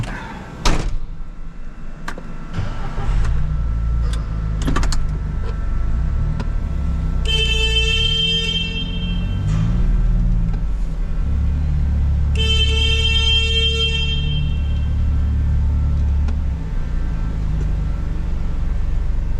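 A car rolls slowly along a road at around ten miles an hour, its low engine rumble steady throughout, with a door thud near the start and faint whine-like tones in two stretches.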